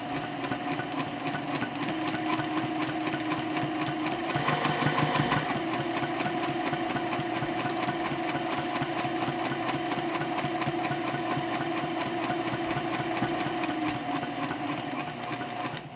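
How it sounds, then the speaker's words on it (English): Sewing machine stitching across a mini backpack, running continuously and evenly at a fast mechanical rhythm, close and steady throughout with no pauses and no talk. "I'm going to sew across."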